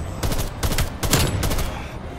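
Gold AUG rifle firing in Call of Duty Cold War on the Nuketown map: four rapid automatic bursts, close and loud, each a dense crackling stream of shots separated by brief pauses.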